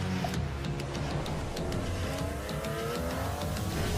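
Porsche 963 race car engine in a game reveal trailer, a dense high-revving roar with rising gear-change sweeps and sharp ticks, loud and continuous with no talk.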